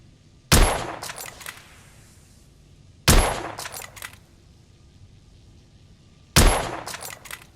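Three loud gunshots ring out from a firearm in the video game The Order: 1886, spaced a few seconds apart, each a sharp crack followed by short metallic mechanical clicks and a fading tail.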